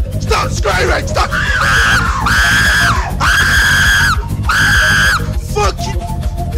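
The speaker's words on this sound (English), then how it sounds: "Stop screaming!" Screaming in the video game Dying Light: repeated loud, drawn-out shrieks in three long bursts, each about a second, with shorter cries and yells between them, close and harsh.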